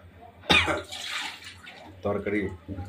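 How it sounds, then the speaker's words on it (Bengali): Vegetables, small radishes with stalks, being washed in water for a dried-fish curry, with splashing and sloshing bursts heard up close alongside a voice talking. "প্রথমে তরকারি সুন্দর করে ধুয়ে নিব, ভালো করে, যেন কোনো ময়লা না থাকে"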